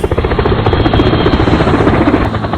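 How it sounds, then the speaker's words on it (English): Loud, close, continuous engine noise with a rapid, pulsing throb, like an aircraft overhead amid busy traffic of buses, lorries and cars, heard alone with no talking. "That is the noise made by buses, lorries, cars, and aeroplanes."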